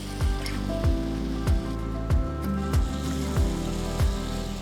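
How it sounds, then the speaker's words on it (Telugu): Ragi batter dropped into ghee-greased pancake skillet molds, a run of soft wet plops at a steady pace, about one a second, over a constant sizzle close by. "చిన్న గరిటతో తీసుకొని ఒక్కొక్క మోల్డ్లో పిండి మిశ్రమం నెమ్మదిగా వేసుకోవాలి"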